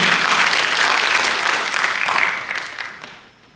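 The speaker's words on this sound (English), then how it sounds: "Let's give them both a round of applause" Applause from the audience at a city mayoral candidate forum in Pearland fills the room with dense, steady clapping, then gradually thins and fades out.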